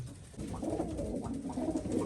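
A white-eyed female domestic pigeon coos softly and repeatedly at close range, low rolling calls over a quiet background with no talking.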